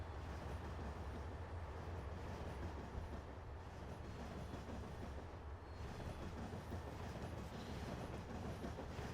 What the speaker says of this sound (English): A little commuter train.